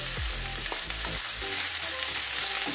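Onions hit hot oil in a pan and fry with a steady loud sizzle, with brief stirring scrapes early on, close and continuous.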